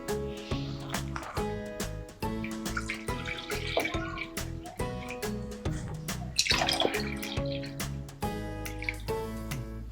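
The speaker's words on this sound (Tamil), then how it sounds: "இப்போ இந்த கிளாஸில் வந்து நான் 2 கிளாஸ் அளவு தண்ணி ஊற்ற போகிறேன்." Water being poured from a glass into a pot for a betel-leaf and tulsi cough soup, a steady splashing stream with sloshing and dripping, close and fairly loud and continuous.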